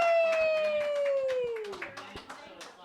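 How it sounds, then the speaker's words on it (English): Comedy-night audience at a wine bar claps in scattered bursts while a loud whooping cheer slides downward over it. The clapping carries on, thinner and more sporadic, after the cheer fades. "Give him a round of applause,"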